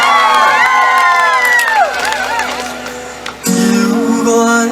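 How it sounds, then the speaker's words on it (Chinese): A crowd at an outdoor community road-safety event in Beitou, Taipei, with a live folk-song performance, cheers and screams. Shrill whoops ride over a dense, loud wall of crowd noise that shifts abruptly near the end. "所热情的掌声加尖叫声。"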